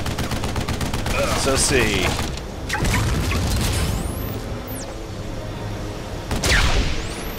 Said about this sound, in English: Pipe bomb! Okay, you press 3 not to equip it, but to actually throw it.